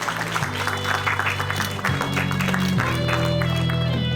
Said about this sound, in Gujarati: આપણે સર્વે તાળીઓના ગડગડાટ સાથે